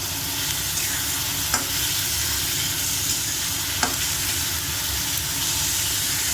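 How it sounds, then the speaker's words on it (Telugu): Onions sizzle in hot oil in a pan, a continuous bright frying hiss with two sharp utensil knocks as they are stirred, close and steady without talk. "ఆయిల్ హీట్ అవుతుందండి, మనం ఆనియన్స్ వేసుకుందాము. కలిపేసుకుందామండి."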